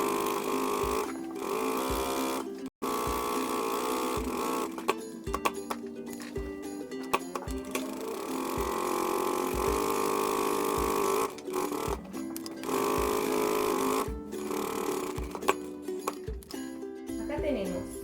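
A sewing machine stitches parallel gathering rows on fabric for a child's sleeveless dress, its continuous whirring hum running with a few short stops while someone speaks over it.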